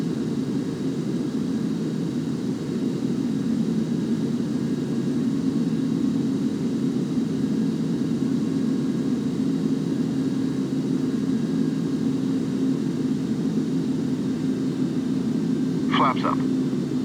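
An aircraft in Flight Simulator X rolls down the runway and climbs out, its engines producing a loud, steady, low roar throughout, with a brief chirp near the end.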